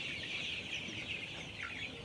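A crowded flock of 35-day-old layer chicks clucks and chirps continuously at moderate volume, a busy mass of overlapping calls.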